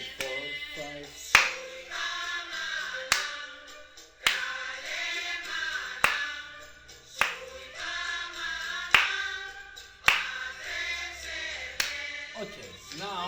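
Hands clap a Balkan rhythm pattern in sharp, evenly recurring accents over music with a melodic line, close and distinct.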